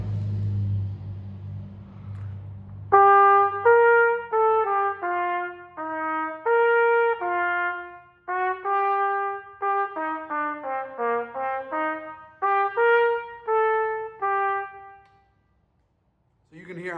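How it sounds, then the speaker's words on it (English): A trumpet plays a melody in short, clipped notes with gaps between them, following a brief low rumble at the start. "I'm kind of segmenting the notes, creating little micro phrases."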